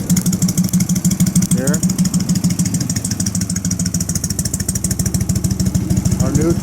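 A 1978 Harley-Davidson FXS Lowrider sits idling nearby with a loud, lumpy, regular potato-potato beat, while someone speaks briefly over the running engine.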